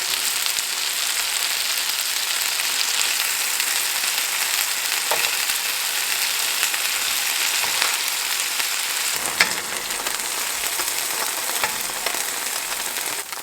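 Meat browning in oil in a pan for an oven stew, a steady close sizzle and hiss that continues without a break, with occasional louder pops and spatters.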